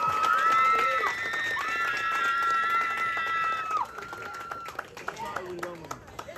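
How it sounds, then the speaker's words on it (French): A crowd in Jacmel applauds a speaker with dense, continuous clapping and cheering, while long sustained horn-like tones ring over it for several seconds before the clapping thins to scattered claps. "je vous demande d'applaudir celle qui a hissé haut l'éloquence jacmelienne au niveau international, Abigail Alexandre."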